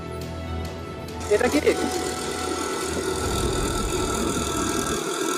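A CNG auto-rickshaw engine drones and putters steadily on a road, a mid-pitched running hum with a few brief rattling bursts, while people talk over it nearby.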